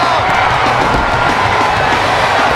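Arena crowd in the wrestling video game WWE 2K22 during a Royal Rumble match roars and cheers continuously, a loud, dense wash of voices with no talk over it.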